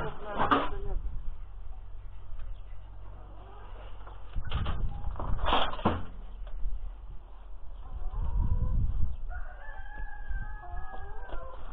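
A rooster crows in a farmyard among clucking chickens, a few distinct loud crows and calls rising over quiet background noise, with a motor cultivator and homemade trailer hauling manure nearby and soft speech heard.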